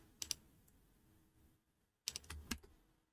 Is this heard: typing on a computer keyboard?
yes